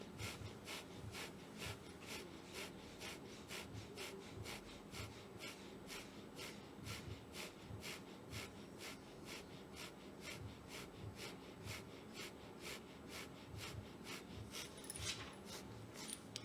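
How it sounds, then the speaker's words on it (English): Rapid rhythmic breath of fire through the nose in a Kundalini breathing practice, steady quick sniffing pulses repeating evenly for the whole stretch, close and soft, with no talking. "breath of fire through the nose."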